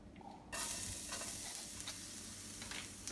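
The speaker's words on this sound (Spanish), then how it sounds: "vamos a empezar a sofreír las verduras. Echamos el aceite, un poquito de ajo," Garlic hits hot oil for sautéing vegetables and breaks at once into a bright, crackling sizzle that carries on steadily, close up, with a few soft clicks of utensils and no talking.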